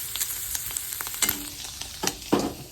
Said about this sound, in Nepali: यो चाहिँ फ्राई हुँदैछ ल